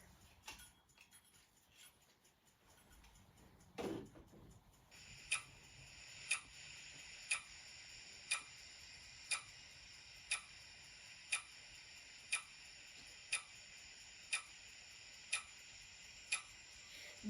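A timer ticks in a steady rhythm, one sharp click about every second, close and fairly quiet against a faint background hiss.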